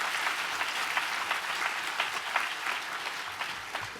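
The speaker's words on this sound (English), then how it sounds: "Shall we give them a round of applause?" An audience at a science talk event breaks into sustained, loud applause, a dense, even clatter of many hands continuing throughout with no voices over it.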